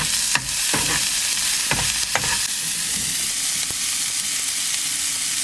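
Chopped onions fry in a pan at a jungle campsite, giving a steady, close sizzling hiss with a few sharp scraping stirs near the start, no voices.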